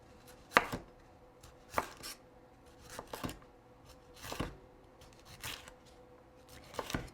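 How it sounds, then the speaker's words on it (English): A knife slices half a red pepper into thin strips on a cutting board. Sharp, separate chopping taps come at irregular intervals over a quiet background, and no one speaks. "So I'm going to use about half of a red pepper. And again, I'm just going to cut it into thin strips."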